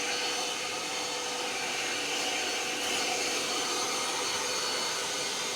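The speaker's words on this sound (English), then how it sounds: "I'm going to vacuum up just the little bits of rust that are left." A filtered shop vacuum sucks up small rust bits during a Crew Cab Charger restoration, giving a loud, steady whooshing roar that holds unbroken from start to finish.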